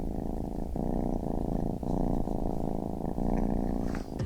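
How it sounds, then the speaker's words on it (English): A close, steady cat purr rumbles continuously, the rhythmic breathing cycles plainly audible and loud throughout with no talk over it. "cue the cat purring noises"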